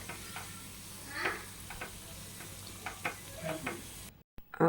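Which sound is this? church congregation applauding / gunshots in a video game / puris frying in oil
puris frying in oil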